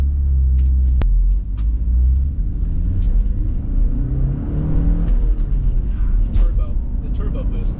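A low-mileage 1980s Porsche 944 Turbo drives along with a steady, loud low engine rumble and road noise heard from inside the car, while someone talks over it.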